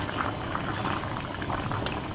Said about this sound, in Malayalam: കറി തിളച്ചുകൊണ്ടിരിക്കുന്നു.